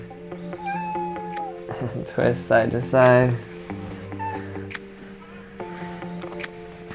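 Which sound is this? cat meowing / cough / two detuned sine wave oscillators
cat meowing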